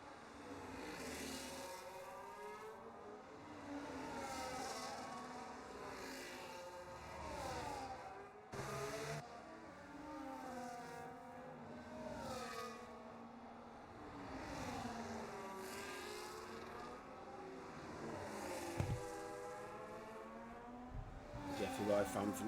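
Ferrari and McLaren Formula One cars race at Zandvoort in a sim racing game, engines whining and sweeping up and down in pitch, steady and fairly quiet beneath continuous commentary.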